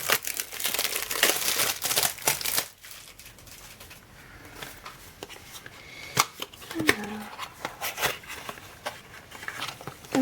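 Crinkly plastic packaging is torn and opened up close, with bursts of sharp rustling and crackling broken by short pauses.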